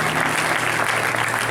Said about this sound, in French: applaudissez pasteur Théagène pour s'il vous plaît